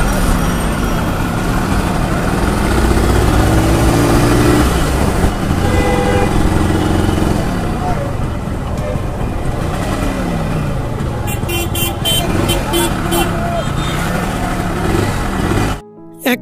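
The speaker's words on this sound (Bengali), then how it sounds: "তো চলুন রাইড করি এবং এই বাইকের মূল সাউন্ডটা শুনি" A Yamaha RX 100 two-stroke motorcycle engine runs continuously while being ridden, loud and close with rising and falling revs over steady wind and road noise, ending with a brief cutoff.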